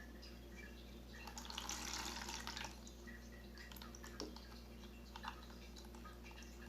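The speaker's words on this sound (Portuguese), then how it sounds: "A gente vai tirar essa água." Soaking water is drained off soaked lentils, a faint, soft trickle and splash of liquid that swells briefly and then fades to quiet drips under a steady low background hum, with no talking.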